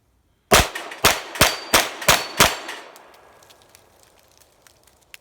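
Six sharp, loud shots fired in quick, even succession from a Taran Tactical 2011 John Wick 3 pistol at an outdoor range, each with a ringing report, followed by a fading echo.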